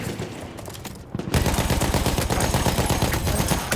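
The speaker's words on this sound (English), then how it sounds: "I'm going to spawn in with my machine gun. I love machine guns." A machine gun in Battlefield 1 multiplayer fires a sustained, rapid burst after a brief quieter lead-in, loud and close with steady rhythmic reports.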